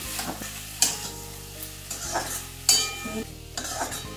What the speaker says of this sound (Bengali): সামান্য আমি বিট গাজরটা নাড়তে নাড়তে সামান্য একটু চিনি দিয়ে দিলাম